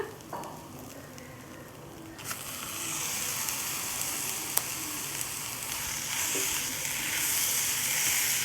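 Minced mutton sizzling and crackling in a hot pan, a steady hiss that starts after a sharp drop and grows fuller, with occasional stirring clicks.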